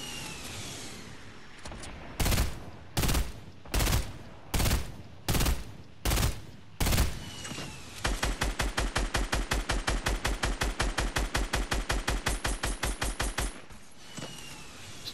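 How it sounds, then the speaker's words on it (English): Gunfire in the Fortnite video game: a run of about eight spaced, heavy shots, then a long rapid automatic burst of rhythmic rounds, loud and close, with no talk over it. "Oh, you started shooting."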